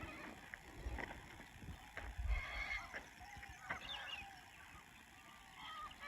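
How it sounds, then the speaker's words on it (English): Birds call at a creek campsite at sunrise, their faint chirps and squawks scattered against a low, steady outdoor background. "Birds are carrying on."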